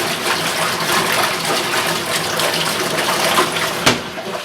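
Water churns and sloshes in a compact twin tub washing machine rinsing laundry, a continuous gushing wash of sound with one sharp splash near the end and no talking.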